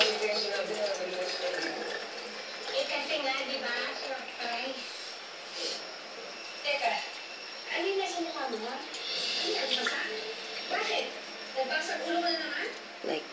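Soaked tissue paper being squeezed by hand to wring out excess water for homemade air-dry paper clay, with wet squelching and dribbling in uneven bursts close by, under steady talk.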